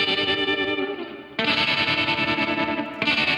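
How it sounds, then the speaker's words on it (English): Guitar chorus section run through a tremolo effect and heavy reverb, a dense, sustained wash of processed electric guitar. It drops back partway through, then surges loud again with a fresh swell near the end, with no voices. "in the chorus, I brought the tremolo on a different track as well with a lot more reverb"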